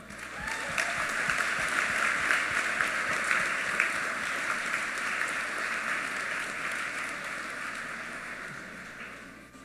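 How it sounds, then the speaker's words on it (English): A graduation audience applauds steadily for the graduating class at a college ceremony, a dense sustained clapping that fills the hall for several seconds. "I kindly ask that the audience join me in a round of applause for the graduating class"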